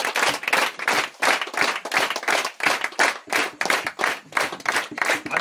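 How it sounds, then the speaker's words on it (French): An audience claps steadily in a church during a consecration service in Côte d'Ivoire, the rhythmic applause loud and close and continuing without pause. "Acclamez Jésus-Christ"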